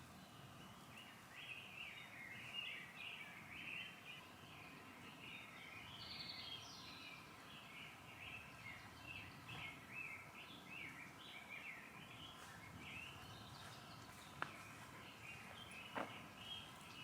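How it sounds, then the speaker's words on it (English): Birds chirp and twitter faintly in the distance over a quiet outdoor background on a trail in Ponca State Park, Nebraska, with scattered calls overlapping and a couple of brief taps. "I don't know how well you guys can hear all those birds"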